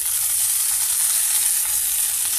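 Amaranth leaves (totakura) go into a pan of roasted pieces, and the pan gives off a loud, steady, even sizzle that runs unbroken from start to finish, with no talking over it.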